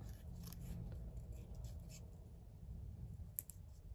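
Scissors snip through a paper wax seal pocket up close, a series of short crisp cuts with a sharper snip near the end, quiet and with no voices.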